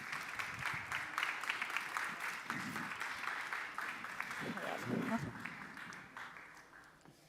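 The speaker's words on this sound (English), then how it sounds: "Un aplauso, por favor. Applause for them, please." An audience claps for panel members at a board of directors event in Chile, the applause building and then fading, with voices talking over it in the middle.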